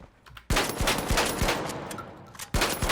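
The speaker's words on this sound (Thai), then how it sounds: "อันนี้เป็นลูกซองชักมันจะยิงสี่นัด แล้วมันต้องชักนี่" A pump-action shotgun fires in the video game The Finals, with sharp, loud blasts spaced apart over continuous gameplay noise, a sudden burst near the start and another near the end.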